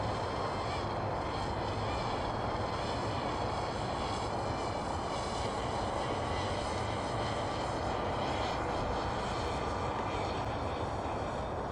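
DJI Mavic Mini drone flying in strong wind over Fort Edmonton Park, a constant dense whirring rotor and wind roar, steady and unbroken throughout with no voices.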